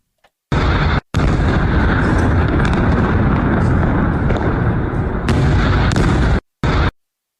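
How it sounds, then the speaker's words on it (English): Continuous roaring blasts and rumbling booms of ballistic missile explosions near the United States consulate in Iraq, loud and dense, broken by a few abrupt cuts to silence. "Explosions from ballistic missiles reported near the United States consulate in Iraq"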